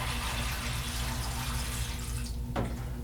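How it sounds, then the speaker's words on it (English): Film developer solution poured into the tank of a roller-style film processor, a continuous close splashing, hissing flow of liquid that ends abruptly near the finish. "Now we're going to add our developer."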